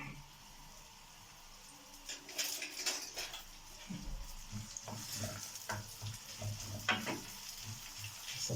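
Two onions go into a pan and fry for rice with pigeon, a quiet hiss that starts partway in, followed by clinks and scrapes of stirring against the pan, close but soft, no talking.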